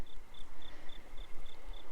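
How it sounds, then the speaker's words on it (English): Crickets chirp near a creek on Mount Lemmon east of Tucson, Arizona, at sundown: a steady train of evenly spaced high chirps, about seven pulses, faint over a low outdoor rumble with no talk. "I can hear the crickets and the burbling of the creek beyond"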